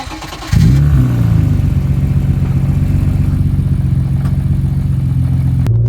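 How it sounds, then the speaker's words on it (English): A 1995 BMW E36 M3 engine with an all-stainless 6-to-1 exhaust starts up loudly after a quiet moment and then idles in a steady, deep, even rumble, heard close up with a brief blip near the end. "It's a stainless steel, all stainless, 6-to-1 exhaust. It looks and sounds very good."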